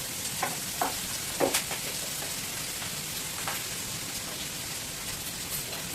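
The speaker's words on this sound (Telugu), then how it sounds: "ఒక నిమిషం బాగా వేగిద్దాం." Vegetables frying in a pan give off a steady close sizzle, broken by a few sharp clinks and scrapes as they are stirred, with no talking.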